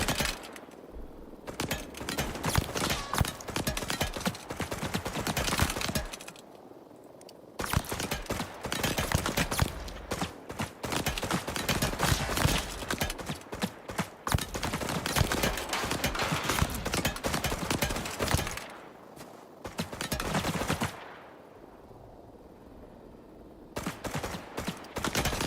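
Automated turrets in the ICARUS video game fire repeatedly in long, dense bursts of rapid gunfire, loud and close, with a few brief pauses between volleys and no talking.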